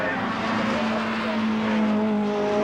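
A white BMW M3 touring car in the 1989 British Touring Car Championship drives toward the finish, its engine a loud, steady, sustained drone that rises gradually in pitch, with a commentator's voice running over it.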